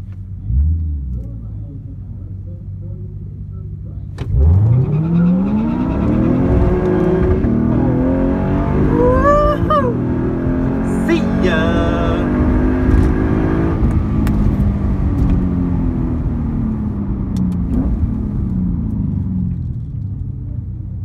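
Nissan 370Z sports car revving hard at a drag strip, its engine note rising loud and close from about four seconds in, sustained throughout with background rumble and voices.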